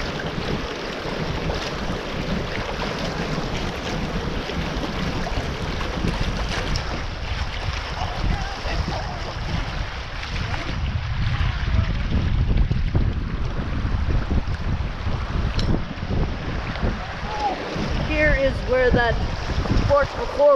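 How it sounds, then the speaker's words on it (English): River rapids on the left fork of a Flathead river float rush continuously with a broad, steady roar, joined by gusts of wind buffeting the microphone throughout. "Here are the rapids."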